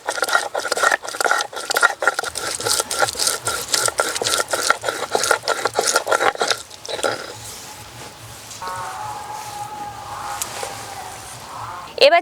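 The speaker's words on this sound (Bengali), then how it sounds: "ছিম ঠান্ডা হতে হতে আদা বেটে নেব" Fresh ginger is ground by hand on a grinding stone in a home kitchen, giving rapid rhythmic rasping strokes for several seconds. The grinding then gives way to a quieter, steady background hum.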